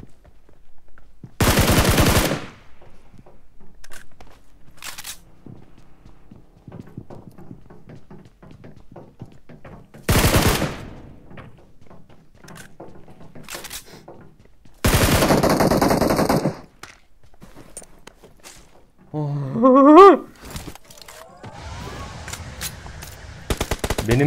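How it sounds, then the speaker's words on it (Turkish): Bursts of gunfire from PUBG Mobile, with several loud automatic volleys around two, ten and fifteen seconds, separated by quieter stretches of in-game noise and softer shots, plus a brief tonal game effect near the end. "Benim mermiler de maşallah."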